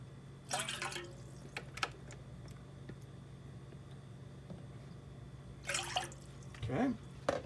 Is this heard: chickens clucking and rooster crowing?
no